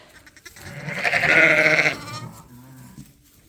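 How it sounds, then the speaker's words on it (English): Large lambs on a sheep farm bleat close by, one loud wavering call rising and fading over a couple of seconds, followed by a softer, lower bleat. "They're big lambs, aren't they?"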